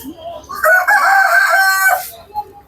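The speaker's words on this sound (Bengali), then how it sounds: "আসার আগেই মরক ডেকে দিল, যদিও এখন সকাল না।" A rooster crows loudly and close by at a farmyard with other fowl in Sirajganj, one full drawn-out cock-a-doodle-doo lasting over a second, then quiet.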